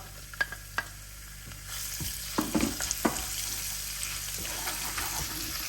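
Garlic and chopped ginger frying in a pan over medium-high heat, a steady soft sizzle underneath with a few sharp clicks and stirring scrapes near the start and middle, no talking.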